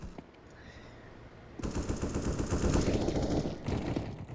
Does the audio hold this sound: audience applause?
no